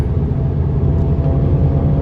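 A modified Toyota Supra's engine rumbles close by, a loud steady deep drone with a low throbbing texture and no clear revving, no voices over it.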